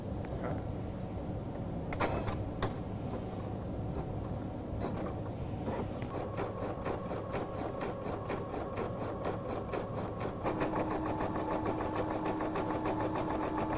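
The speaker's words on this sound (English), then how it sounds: "I can just turn on the button and have it start embroidering." A Brother PE-500 embroidery machine runs steadily and close, with a continuous mechanical whir and a fast, regular stitching pulse. The tone shifts partway through, and no one talks.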